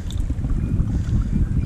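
Strong wind buffets the microphone outdoors during a fishing outing, a steady loud low rumble of gusts with no voices.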